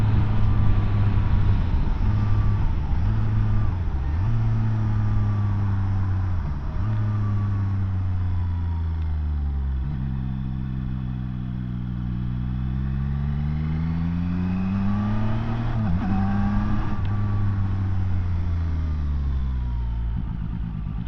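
A Zontes 703RR motorcycle engine drones loudly up close at speed, its pitch climbing and dropping again through several gear changes over about twenty seconds, with no voices.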